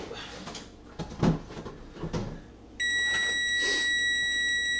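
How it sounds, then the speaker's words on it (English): A kitchen timer beeps steadily and loudly for the last couple of seconds, after clattering and rustling sounds of someone preparing breakfast bacon rolls with eggs in a kitchen. "There's our timer."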